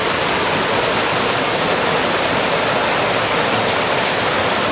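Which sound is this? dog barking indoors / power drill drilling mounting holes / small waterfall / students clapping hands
small waterfall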